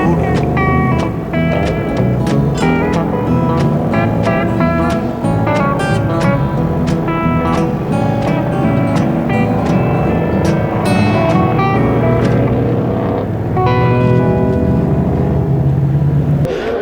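A full field of club racing cars accelerates through turn one at Carco Raceway during a WA Sporting Car Club race, a dense, steady layered engine roar with overlapping tones from many cars close by.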